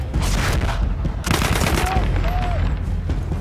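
Loud, rapid bursts of Battlefield 1 gunfire crackle almost continuously, with a voice faintly under the shooting.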